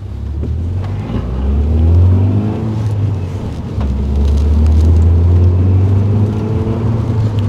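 A Peugeot 208 GTI on a road test after restoration, its engine droning steadily with rising and falling pitch as it accelerates and shifts, plus road and tyre rumble, close and continuous with no talking.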